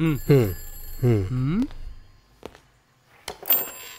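A telephone rings in a couple of warbling bursts close by, followed by a pause, scattered clicks and a short burst of voices.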